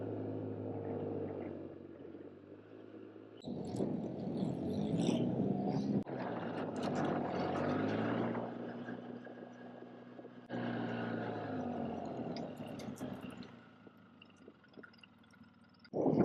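A four-wheeler ATV loaded with corn drives along a muddy track, its engine a steady, fairly loud rumbling drone that shifts in pitch and intensity as it goes, with rattling from the load and no talk.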